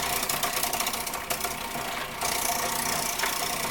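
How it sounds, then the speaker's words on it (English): A 12-cup food processor whirs steadily as it chops rhubarb, a loud, continuous motor drone with a grinding texture that shifts slightly in pitch partway through. "So I'm just running it through on the food processor."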